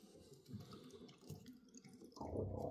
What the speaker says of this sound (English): As you can hear, water's refilled.